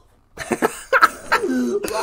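A person coughs several times in short, rough bursts, followed by a throaty strained sound, close and fairly loud after a moment of silence.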